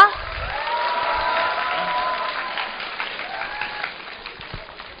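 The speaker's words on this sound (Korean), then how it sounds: "네, 김남훈 선생님께 다시 한번 큰 박수 부탁드릴게요" Applause from an audience, steady clapping that fills the room and slowly thins out toward the end.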